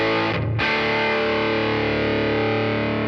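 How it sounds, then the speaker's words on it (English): Electric guitar played through a Tonex amp tone model pushed hard by an input trim boost of about 11 dB, a loud, heavily saturated sustained chord ringing out alone with a brief dip near the start. "You can hear the tone model gets much more saturated as I do that."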